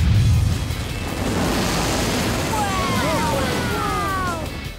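A cartoon volcano erupts with a loud, sustained rumbling roar that fills the whole stretch, opening with a deep boom; bright whistling, squealing tones rise over it partway through.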